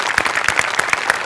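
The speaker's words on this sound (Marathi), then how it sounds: "आर्ट डिपार्टमेंटसाठी एकदा जोरदार टाळ्या" A studio audience applauds the art department after a comedy sketch, loud, steady clapping with distinct individual claps near the front.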